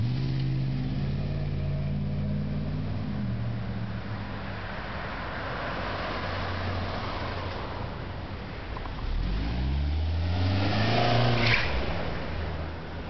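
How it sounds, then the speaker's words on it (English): Cars race down a Los Angeles residential street at around 40 to 50 mph, their engines rising and falling as they pass, with a loud roaring pass near the end over a continuous traffic rumble. "they'll speed through the intersection at 40, 50 miles an hour all the way down to the end of the street"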